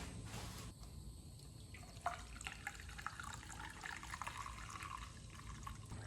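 Water trickles and splashes steadily as it fills the cooling system of a Honda 420 engine during a top-end rebuild, a continuous close liquid sound with a few drips.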